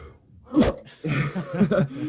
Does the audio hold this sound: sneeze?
yes